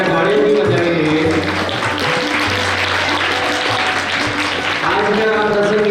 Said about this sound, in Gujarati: આપણે તાળીઓથી વધાવી દઈએ